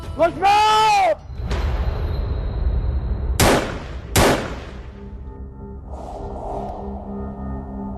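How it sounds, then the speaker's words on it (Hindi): A handful of sharp gunshots fired at a house, heard as separate loud cracks with gaps between them, followed by a low lingering tone. "मेरे ही घर पर आके मुझ पे फायर कर रहा है।"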